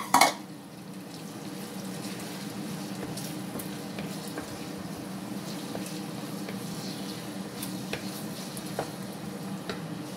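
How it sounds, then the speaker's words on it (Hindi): Tomatoes hit a hot pan and sizzle steadily while being stirred, a soft continuous frying hiss with occasional light clicks and scrapes of the spoon, close and moderately quiet. "तो यहाँ मैं टमाटर भी डाल लेती हूँ। यहाँ टमाटर डाल लिया।"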